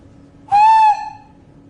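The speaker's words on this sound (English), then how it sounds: "I will whistle for you." A person whistles a single steady tone, close and loud, lasting about half a second with a clean pitch and faint overtones, then a brief softer tail before quiet room noise returns.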